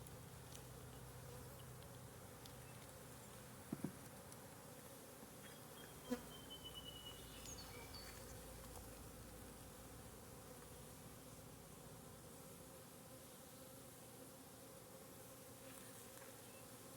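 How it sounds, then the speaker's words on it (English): A honeybee buzzing inside a beekeeper's hood during a hive inspection, a steady close insect drone that holds throughout with a couple of faint clicks and no voices. "I got a bee up in my hood."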